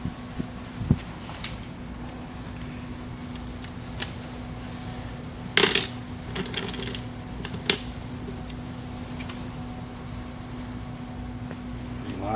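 Metal screws, lock washers and flat washers for a Club Car Precedent golf cart seat install being handled close by, producing sparse light clinks and one brief jangling rattle over a steady background hum.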